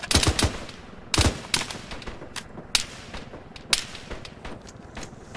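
Gunfire crackles during a military operation near a construction site: sharp, loud shots in irregular bursts and single cracks, some close and some more distant, with no voices heard.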